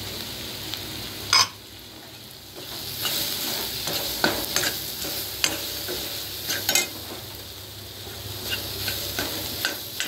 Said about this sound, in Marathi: मिरची पावडर, जरा परतून घ्या।